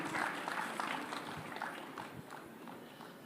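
Applause from a press meet audience rises at the start and then tapers off, a moderately faint, continuous patter of clapping with no talking over it.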